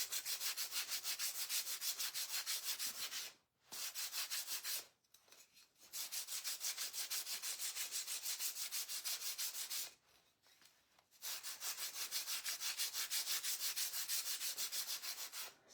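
Hand sanding on a wooden craft piece, a steady, close scratchy rubbing in long continuous strokes, broken by a few brief pauses, with no voices.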